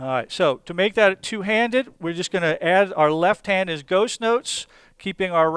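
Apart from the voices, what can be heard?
No distinct noise like a dog, phone or traffic.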